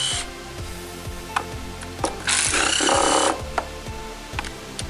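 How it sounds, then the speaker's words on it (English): A socket ratchet clicks rapidly and evenly while loosening valve cover bolts on a Dodge Charger 3.5 engine, close up, with a few sharper knocks and a brief scraping rush partway through. "So you can just go ahead and loosen those."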